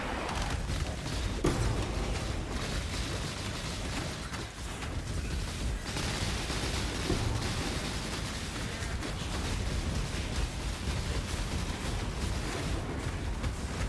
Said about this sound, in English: Yo, that's a lot of explosions.